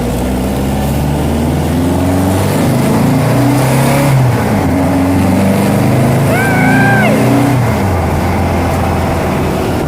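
A Volkswagen Baja Bug's engine drones and revs steadily while the car is driven, loud and close throughout, with the pitch rising and falling as it accelerates on a cold morning commute.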